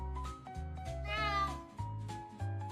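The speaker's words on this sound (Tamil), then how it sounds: "ஒரு கிராமத்தில் மிகவும் சோம்பேறி பூனை ஒன்று வசித்து வந்தது." A cat meows repeatedly, several drawn-out, rising and falling meows close up over a musical background, with no talking.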